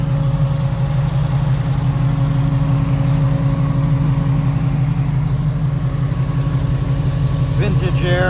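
A 1969 Chevrolet Camaro's 502 big block Chevy V8 with MSD ignition and Edelbrock intake idles steadily with a deep, even rumble throughout, loud and close.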